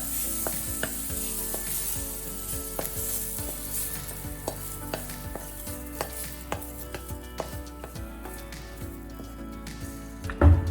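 Food sizzles and crackles steadily in a hot pan, with repeated sharp scraping taps of a spatula stirring throughout.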